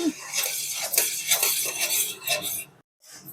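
Cardamom powder being mixed into jaggery syrup with a spoon: rapid clinking, scraping strokes against a metal vessel, close and fairly loud, stopping abruptly near the end before a short resumption.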